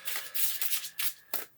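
Tarot cards shuffled slightly off to one side, several bursts of crisp, papery riffling and flicking separated by brief pauses, moderately quiet and with no one talking.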